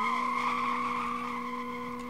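Honda Civic drag car in the racing game Street Legal Racing Redline revving hard at the launch, a steady loud engine drone with strong harmonics and a faint tyre squeal, close and continuous without talk.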